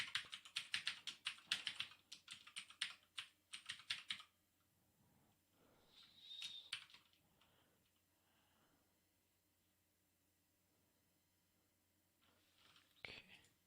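Fast, close computer keyboard typing in bursts of clattering keystrokes during a live Java coding session, then a few scattered taps, with soft murmured speech and breathing between the bursts.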